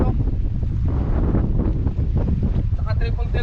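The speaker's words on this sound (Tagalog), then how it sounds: "Lumakas na kasi yung hangin" Strong gusting wind buffets the microphone in a loud, continuous roar on the coastal crags at Agno, Pangasinan, with faint voices underneath toward the end.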